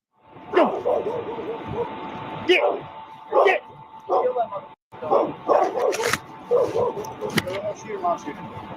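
A dog barks in short, sharp bursts, several barks spaced irregularly, with excited human voices and shouting mixed among them.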